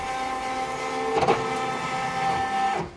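A Baby Lock Flourish II embroidery machine's carriage moves during setup, making a steady motorized whir with a mechanical clunk partway through and a tonal hum running throughout.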